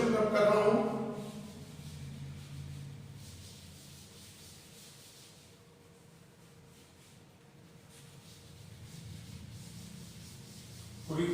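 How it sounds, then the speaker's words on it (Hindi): An eraser rubs out a written accounts solution on paper. A soft, continuous scrubbing runs the whole time, fairly quiet, and a voice talks over the start and again near the end. "केवल मैं इसका सॉल्यूशन रब कर रहा हूं"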